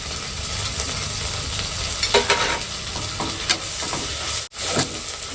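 Ginger garlic paste fries in a pan for biryani, giving a steady, close sizzle with scraping stirs and a few sharper clatters of the spoon against the pan. No voices are heard.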